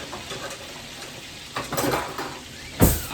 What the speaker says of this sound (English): This cabbage has to cook down slowly. So I'm going to start stirring that up a little.